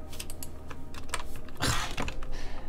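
Rapid keystrokes on a computer keyboard during a live space quiz stream, a steady patter of clicks with a denser burst of louder key presses near the middle, close and with no talk.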